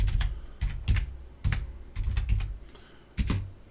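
Irregular bursts of computer keyboard typing, clustered key presses with short pauses between them, close and fairly loud with no talking.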